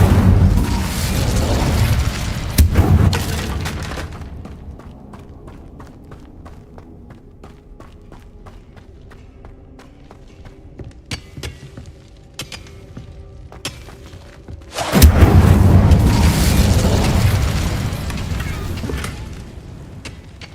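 An Incendio fire spell in Hogwarts Legacy goes off as a loud burst at the start and again near the end. A quieter stretch of small clicks and pops lies between them.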